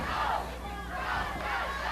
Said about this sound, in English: This crowd is on its feet.